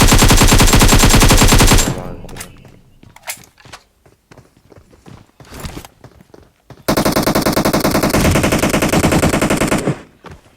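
Automatic rifle fire in the battle-royale game PUBG Mobile: a loud sustained burst, then scattered single shots and thuds, then another long rapid burst that cuts off, with no talk over it.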